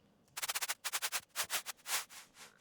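A short burst of electronic noise in a tech house drop, chopped into a rapid stutter of pulses with automated volume, then trailing off into a few wider delay echoes, loud and without voices.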